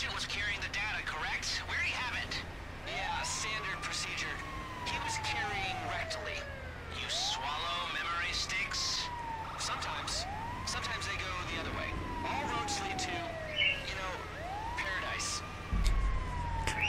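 A wailing ambulance siren in GTA V Online rises and falls in repeated slow sweeps over a busy game soundscape, with a voice talking throughout.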